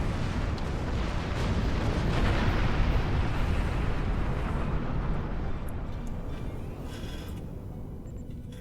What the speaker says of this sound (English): Feuerenergie in die Phaserbänke und Feuer.